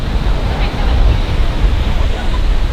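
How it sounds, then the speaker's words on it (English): Ocean surf rolling in at St. Augustine Beach, Florida: a continuous loud roar of breaking waves mixed with wind buffeting the microphone, steady with slight swells and no talk over it. "the waves are a little too intense"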